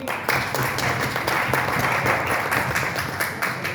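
An audience claps and applauds steadily throughout a motivational speaking event, a dense, continuous patter of hands at even loudness with no voices rising above it.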